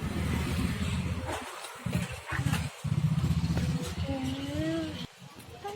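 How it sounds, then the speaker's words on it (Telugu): A scooter being ridden, its small engine droning steadily with brief dropouts and some clatter, fairly close and loud throughout. "ఇప్పుడు నేను స్కూటర్ నడుపుతా."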